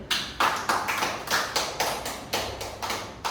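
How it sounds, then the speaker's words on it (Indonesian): A class of students claps in unison to applaud a classmate, giving about a dozen crisp, evenly spaced group claps at a steady tempo. The claps are close and clear, with no voices. "Tepuk tangan untuk Sherly."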